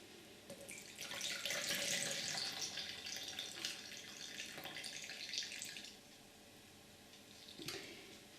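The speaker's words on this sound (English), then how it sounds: "So I will pour this water out," Coffee-tinted water poured out from dyeing paper, a close, steady splashing stream for about six seconds that fades and ends with a brief final splash, with no talking.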